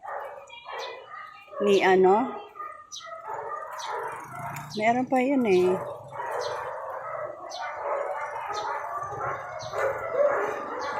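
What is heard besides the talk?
many dogs barking and howling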